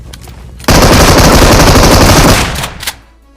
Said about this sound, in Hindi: मशीन गन चला रहा था बंदा